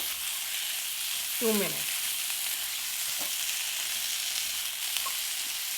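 Steady close sizzle of lotus stem stir-frying with black pepper in a pan, with a brief scrape of stirring and a short spoken remark over the continuous frying hiss.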